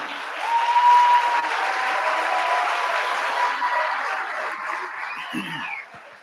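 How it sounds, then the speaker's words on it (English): An audience at a Charles County Public Schools all-county orchestra event applauds the orchestra students before they play, a broad, steady wash of clapping that holds for several seconds and then fades out near the end. "if you could give your students a round of applause before they play a note"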